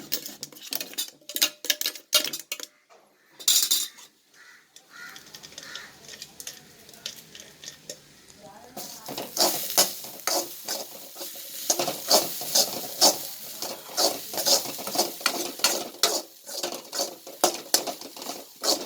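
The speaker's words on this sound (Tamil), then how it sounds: "அதுதான் வந்து வெறுஞ்சட்டில் தான் வறுக்கணும்" Grated coconut dry-roasts in an empty pan, a spoon scraping and stirring with busy rhythmic rattles and a faint crackle, close up, no talk.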